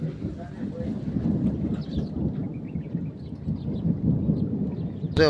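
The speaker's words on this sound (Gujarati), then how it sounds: "તો જુઓ મિત્રો, વરસાદ ને વાવાઝોડું" Wind roars against the microphone in a heavy storm with rumbling thunder and rain, while a voice speaks over the din.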